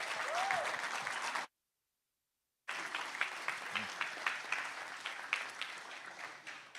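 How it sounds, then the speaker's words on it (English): Sustained crowd applause at a community event, a continuous clapping wash with a brief dropout, then resuming at an even, moderate level with distinct individual claps. "Continue to give her a round of applause."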